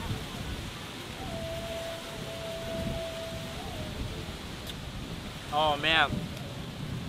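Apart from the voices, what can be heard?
strong wind and rain outdoors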